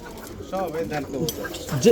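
Pigeons of an old line coo in a loft, soft repeated throaty coos close by, while someone talks over them.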